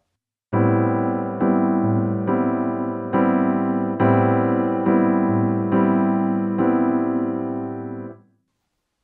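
Guitar strumming a rhythm on a single held chord, eight or so crisp evenly spaced strokes ringing together, clear and close, then letting the last chord fade out with no talk.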